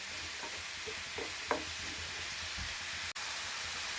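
Steady frying sizzle hisses throughout, with a few soft stirring scrapes and a single sharp click near the end.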